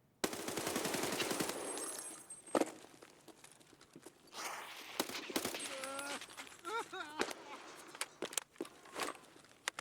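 Bursts of automatic gunfire with BS rounds in Escape from Tarkov, sharp volleys mixed with footsteps and rustling, a few isolated shots and quieter gaps between, with some talk present.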